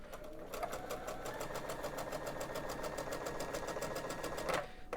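Sewing machine stitching gingham quilt fabric, a steady fast mechanical whirr with an even pulsing rhythm that runs about four and a half seconds before stopping, close and moderately quiet.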